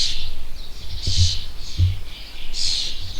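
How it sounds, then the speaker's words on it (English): Hungry baby birds chirp in short, high, shrill bursts that come and go several times over a few seconds, close by, with low knocks from someone working on a VW Crafter van conversion. "There's so many baby birds so hungry. It sounds like we live in an aviary."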